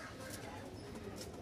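Short-beaked pigeons kept for breeding murmur with low, faint coos over a steady hush of background noise at a pigeon sale in Mirpur-1, Dhaka, with no words spoken.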